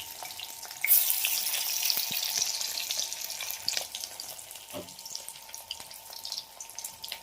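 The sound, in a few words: pakoras deep frying in oil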